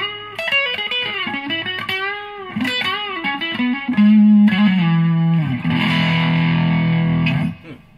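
An electric guitar fitted with Bare Knuckle pickups plays through an overdrive effect, moving from picked, ringing notes into sustained, gritty chords that hold loud and close before cutting off, with no talk.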